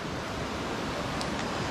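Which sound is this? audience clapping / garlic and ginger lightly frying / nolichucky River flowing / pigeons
nolichucky River flowing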